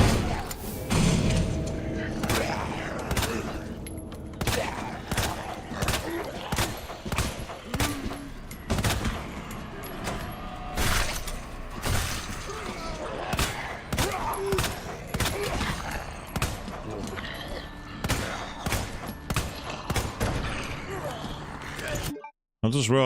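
Rapid gunfire in the Resident Evil 2 Remake video game, dense bursts of shots and mechanical clacks running almost continuously and loudly for about twenty seconds before cutting off abruptly.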